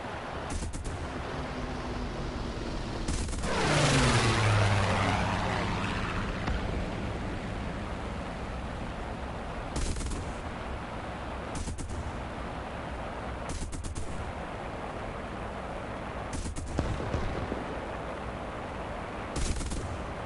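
Aircraft machine-gun fire in War Thunder during a Battle of Britain dogfight, several short sharp bursts spaced across the stretch over a steady engine drone, with a loud whooshing pass early on.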